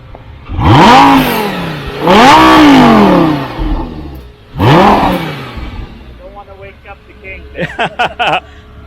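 A Lamborghini V10 engine revs hard three times in quick bursts, loud and close, followed by a few short sharper blips.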